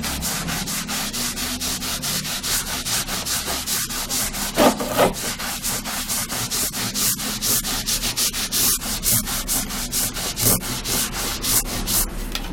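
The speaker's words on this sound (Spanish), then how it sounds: "cojo mi esponja y voy a proceder a sobar de esta forma," A sponge is rubbed back and forth over a textured craft box surface in a steady, rapid rhythm of close, scratchy strokes, continuous and alone.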